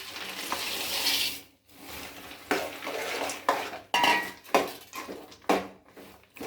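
Peanuts being stirred into a hot chikki mixture in a pan, with close, uneven scrapes and knocks of a spoon against the metal in bursts and short pauses, under a faint sizzle.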